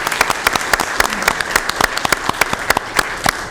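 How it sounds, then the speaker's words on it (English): A modest group applauds at a county board of supervisors meeting, individual sharp claps standing out clearly in a loud, uneven patter close to the microphone. "More round of applause for our 40th anniversary production."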